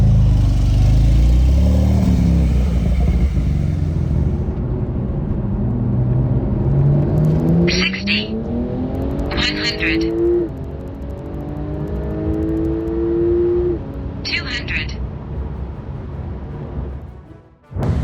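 A modified 1100 bhp 2023 Porsche 992 Turbo S pulls hard on a rain-soaked street: steady road roar, then engine pitch climbing in repeated sweeps punctuated by sharp crackling bursts between gears, ending abruptly.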